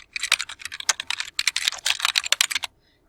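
Rapid keystrokes on a computer keyboard entering a search term, a close, brisk run of clicks lasting under three seconds before falling silent.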